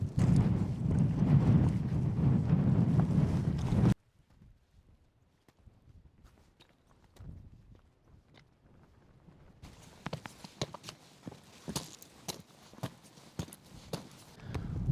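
Strong gusting wind buffets the microphone on a steep zigzag mountain trail, a loud roaring rush at first, then a quiet stretch with faint footsteps before gusty crackling returns.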